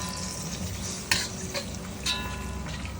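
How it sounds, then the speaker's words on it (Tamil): A soft, steady sizzle of mushroom and potato gravy cooking in a pan after water is added, with a few light scrapes and clinks of stirring, close by and fairly quiet. "தண்ணி ஊற்றி நல்லா கிண்டி விட்டுருவோம்"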